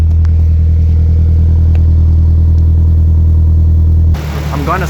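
A turbocharged KA24DE in a Nissan 240SX S14 running on E85 drones loud and steady through a test drive. It holds a low, even engine tone, then drops off sharply near the end as something else takes over.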